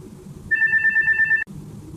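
A telephone bell rings in one steady, bright electronic tone for about a second, loud and alone over a low indoor room hum, then cuts off abruptly.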